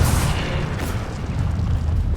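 The Incendio fire spell cast in the Hogwarts Legacy video game, a loud, dense burst of roaring, booming fire that fills the whole moment without letup.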